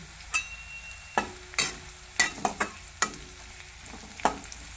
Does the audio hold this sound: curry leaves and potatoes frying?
yes